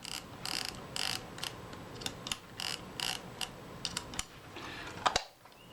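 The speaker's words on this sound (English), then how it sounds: "So I'm going to rotate my film advance, get my spanner on there, just do that up snug." Repeated ratcheting clicks from a Kodak Retina I type 010 film advance being turned and snugged up with a spanner, short bursts of close mechanical ticking in a quiet room.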